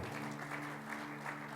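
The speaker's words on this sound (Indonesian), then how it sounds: "Berikan tepuk tangan." Church congregation applauding during a Sunday worship service, a steady wash of many hands clapping at moderate distance with a sustained low hum underneath, continuous for the whole stretch.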